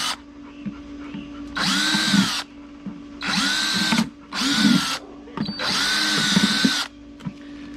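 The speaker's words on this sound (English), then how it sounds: "Alright, holes are drilled." A power drill bores holes in the cheap wooden boards of a garden bed, four loud, steady whining runs of a second or so each, separated by short pauses, with no talking.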